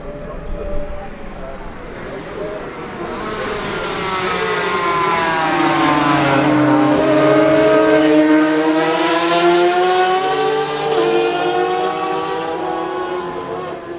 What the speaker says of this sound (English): There's the Suzuki of David Murphy, number 15.